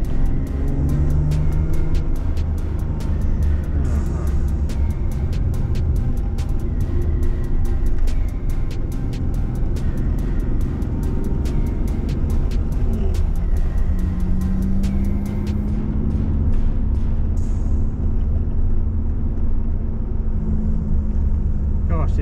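Jaguar XJ-S with a V12 engine running on the Mallory Park circuit at a track day, a steady loud low engine drone throughout with voices talking over it.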